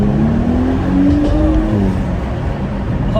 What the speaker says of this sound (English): Oh, I love the pops and the burble.